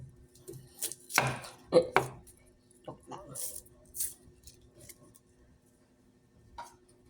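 A knife slices through an onion on a board for a vinegar-marinated daing dish, with a few crisp, close cuts bunched in the first two seconds and sparse clicks after, over a quiet room.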